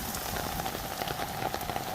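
Rain falls steadily on grass and soil in a monsoon-season pasture, a dense, even patter that stays constant throughout with no voices.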